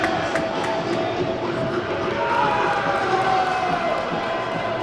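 York City Knights rugby league fans cheer in a stadium as their players come onto the field for the match against London Broncos, a steady, dense roar of crowd noise throughout with no clear peaks.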